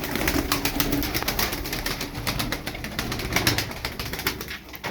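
Kadro Manyak pigeons, including a white female, coo and flap their wings nearby in a steady stream of soft bird sounds with no talking.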